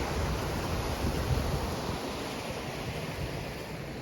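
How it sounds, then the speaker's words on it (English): The river flowing at Holmfirth near the Old Bridge, a steady, fairly faint wash of rushing water with slight wind noise and no talk. "Then you've got the river."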